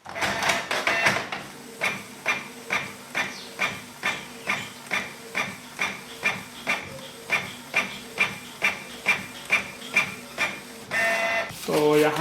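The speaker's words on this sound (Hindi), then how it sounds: "प्रिंट होना स्टार्ट हो जाता है।" A printer prints a page sent from a laptop, starting with a whirring feed, then a steady run of evenly spaced mechanical strokes about every half second, ending in a louder whirring eject, close and clear.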